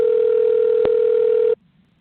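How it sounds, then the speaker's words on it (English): A steady telephone dial tone hums at one even pitch, loud and close, then cuts off abruptly after about a second and a half, leaving near silence. "Dial it up again."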